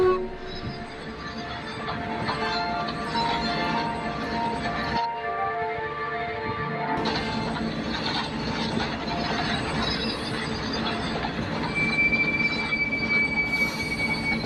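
A goods train in Sodor Fallout runs along the line with a heavy mechanical rumble and high wheel squeal. The sound drops out briefly midway, then resumes loud and steady.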